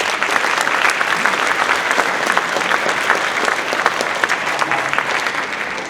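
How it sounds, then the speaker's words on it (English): A high school winter concert audience applauding, a full, sustained crowd clapping with dense overlapping claps, loud and even throughout. "Please give yourselves a round of applause."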